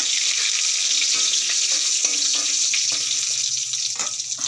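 Chopped garlic frying with slit green chili, bay leaf and panch phoron in a pan for a spinach curry, a steady broadband sizzle that stays close and loud throughout, with a few faint clinks and no talking.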